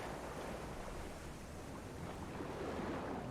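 Ship propellers pick up on a U-boat hydrophone in the Silent Hunter 3 submarine game: a faint, continuous wash of broadband underwater noise with a low churning rumble and no voices.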